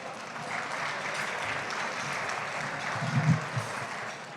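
Audience applause at an awards gala, a steady, even wash of clapping throughout with a few louder claps near the end.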